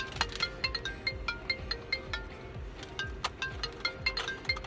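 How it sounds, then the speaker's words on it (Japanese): A phone ringtone plays a repeating electronic melody in a steady rhythm, moderately close and alone without speech. "もう電話かかってきたよ"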